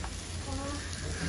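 Seekh kebab sizzles steadily on a hot plate in a Shinjuku halal restaurant, giving a close, continuous hissing crackle with no pauses.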